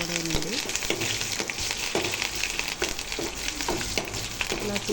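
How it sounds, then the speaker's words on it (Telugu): Dried red chillies and curry leaves sizzle in hot oil for a tempering over radish dal, a continuous crackling fry with occasional stirring clinks, close and steady. "తాలింపు బాగా వేగిన తర్వాత ఆ పప్పులోకి అయితే ఈ తాలింపు వేసేసుకోవడమేనండి."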